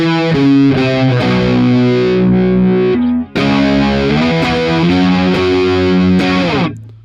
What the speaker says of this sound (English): if I throw the pedal back in, it gets us to what I think is quite an 80s sort of sound